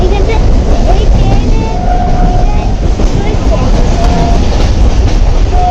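A moving train heard from inside a carriage during an early-morning ride, producing a loud, constant rumble and rattle with faint squeals throughout.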